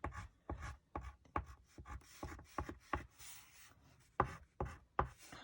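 Pencil drawing vertical and curved lines on paper, a rapid series of short, close scratchy strokes in an irregular rhythm, crisp and alone without any talking.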